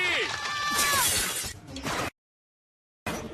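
New window glass shatters in a cartoon, a loud bright crash with tinkling shards that fades into silence, and a short burst of sound returns at the end.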